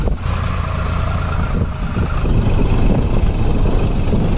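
A tractor engine runs nearby with a loud, rough diesel rumble, steady with slight surges in load.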